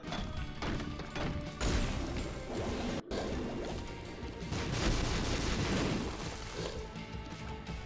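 Explosions and heavy impacts from The Binding of Isaac Afterbirth+ boss fight (BBaby, Terror), a dense, loud run of crashing blasts and thuds with a brief dropout near three seconds, all over busy game audio.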